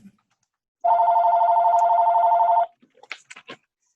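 A telephone rings in one steady electronic trill lasting about two seconds in a quiet room during a municipal conservation commission meeting, followed by a few faint clicks and knocks.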